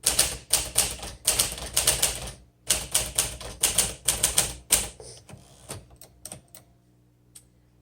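Rapid clacking keystrokes of a 1955 Smith Corona Silent Super manual typewriter in quick bursts, then slowing to a few scattered taps and a final click before silence.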